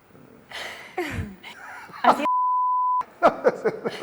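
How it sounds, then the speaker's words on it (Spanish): A single flat, steady censor beep of about a second cuts in between bursts of talking and light laughter. "¿Y si ponemos pitido, no lo dices?"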